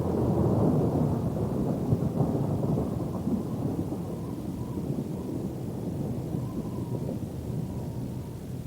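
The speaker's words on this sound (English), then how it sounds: "until it escalates and turns into a full-blown storm." A full thunderstorm in the African bush, with rumbling thunder over steady heavy rain and gusty wind, loud and continuous throughout with no voices.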